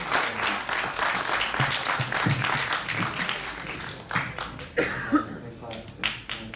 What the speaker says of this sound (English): One big round of applause, folks